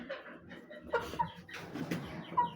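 An Aseel desi hen on a Pakistani farm clucks in a few short, close calls at a moderate level, with soft outdoor background noise and no talking.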